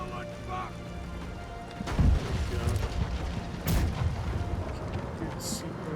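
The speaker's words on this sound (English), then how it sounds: "Release the cannon!" Cannon fire in a video game, two deep booming shots about two seconds apart over a dense, noisy battle backdrop with a talking voice.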